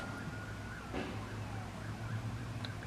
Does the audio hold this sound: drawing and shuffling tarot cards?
no